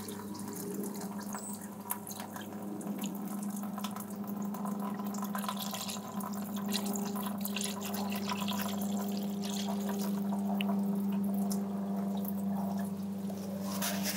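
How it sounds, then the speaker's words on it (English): Old oil and fluid drain out of the oil pan of a car sitting on ramps, a steady liquid trickle and drip into a catch pan, continuous and unbroken beneath a low steady hum. "we'll let that drain for a few minutes and then see where we're at"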